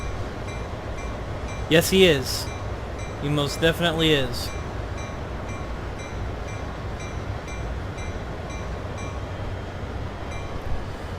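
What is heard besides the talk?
train moving on the rails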